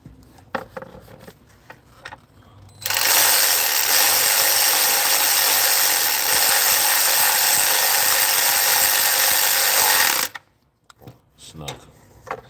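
Power tool snugging down bolts on a Honda Pilot during a timing belt and water pump job, one steady loud whirring burst of about seven seconds, with quieter sounds before and after.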